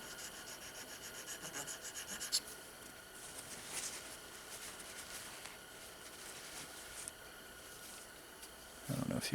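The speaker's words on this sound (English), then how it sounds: "it's polishing up pretty good. It's taking the machining marks off" AR-15 trigger parts are polished to take off machining marks, a steady close rubbing and rasping that runs continuously for several seconds at a low level, with a brief louder knock near the end.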